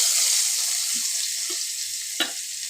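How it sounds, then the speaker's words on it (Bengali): Chopped onion sizzling in hot oil in a wok, an even bright hiss with a few soft stirring scrapes and one sharper clink near the end, close and without talk. "এবার আমি কড়াইতে পেঁয়াজ কুচি দিয়ে দিচ্ছি।"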